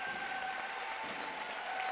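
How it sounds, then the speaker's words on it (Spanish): A crowd at a basketball game between CB Tormes and Club Baloncesto Culleredo applauds a player, a steady patter of clapping from many hands at moderate distance, faint and unbroken. "Aplauden a Salomón"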